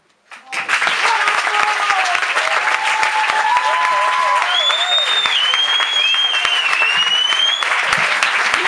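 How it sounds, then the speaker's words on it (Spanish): A crowd at a slam poetry round in Mallorca breaks into loud, sustained applause for a poet, a dense wash of clapping that starts abruptly and holds steady, with cheers and whoops rising over it. "Un fuerte aplauso para Tomeu."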